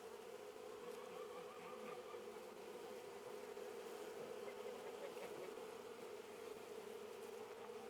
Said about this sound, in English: that thing is swarming with bees